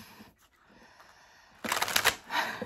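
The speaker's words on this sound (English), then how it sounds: "three more shuffles for Taurus." Tarot cards riffle and shuffle in a quick, rustling burst near the end, after a few faint handling sounds.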